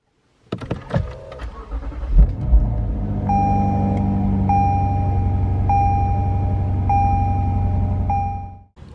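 A Lexus RC F's 5.0-liter V8 cranks and fires with a loud rising roar, then settles into a deep, steady idle rumble while a repeating chime pulses over it before the engine cuts off.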